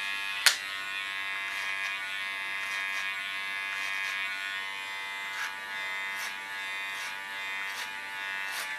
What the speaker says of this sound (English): Using my clipper as a comb.